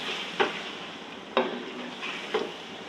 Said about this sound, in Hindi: अभी इसमें मैं चिकन डाल दूँगी। और चिकन को तकरीबन मैं 6 से 7 मिनट भून लूँगी